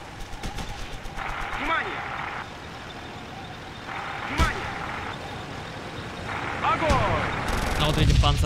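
A tank cannon fires in the WWII video game Theatre of War, set in the Battle for Moscow, with one sharp loud shot amid engine rumble and other battle noise, while a voice talks over it.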